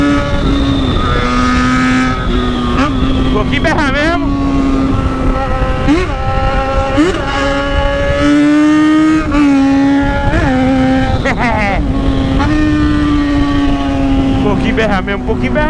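A motorcycle with a loud welded exhaust being ridden, its engine droning close and loud throughout with repeated revving rises and falls, while someone talks over it at times.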